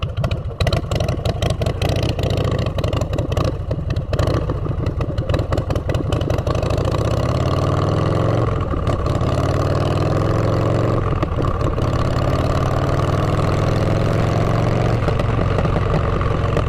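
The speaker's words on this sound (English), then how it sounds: "the pipes make a completely different motorcycle." A motorcycle fitted with aftermarket exhaust pipes rides along a busy road, its engine loud and close, first in choppy rapid pulses as it revs, then settling into a steady droning rumble with rising and falling pitch through gear changes.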